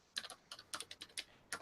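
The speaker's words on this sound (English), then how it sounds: "I'm typing on the wrong keyboard." Typing on a computer keyboard, close and fairly quiet: about a dozen crisp key clicks in uneven quick bursts with short pauses between them, no voices.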